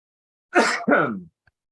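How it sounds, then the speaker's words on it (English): A single throaty cough or throat-clearing in two quick bursts, close and moderately loud, then silence. "I'm about to cough."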